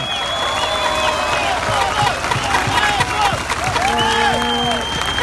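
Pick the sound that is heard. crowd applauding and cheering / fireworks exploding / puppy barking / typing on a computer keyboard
crowd applauding and cheering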